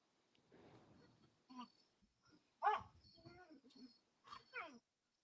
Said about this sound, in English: You hear my dogs in the background. They're so cute. They're fighting.